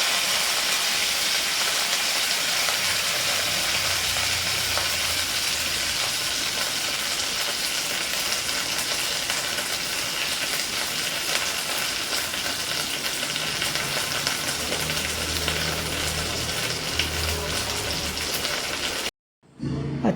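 Dried red chilies and curry leaves frying in hot oil for a homemade mango curry, a loud, steady close sizzle and crackle that runs unbroken before cutting off abruptly near the end.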